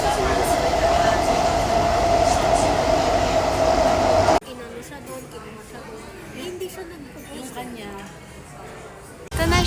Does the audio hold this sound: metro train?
yes